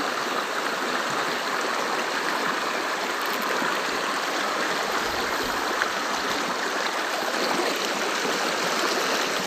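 A clean river stream flows steadily near farm fields, a constant close rushing and gurgling of water with no voices.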